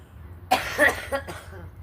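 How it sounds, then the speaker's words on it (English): A person coughs indoors during a casual livestream, a single harsh burst followed by a few shorter rough hacks over about a second, close to the mic with a low background hum. "When I cough like that, we should just hit it again"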